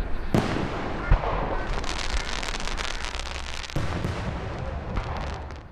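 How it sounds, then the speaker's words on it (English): Fireworks display over West St. Louis County by the city of Twin Oaks, a loud continuous barrage of crackling bursts and deep booms with sharp sparkling pops throughout. "the city of Twin Oaks wrapped up its fireworks display"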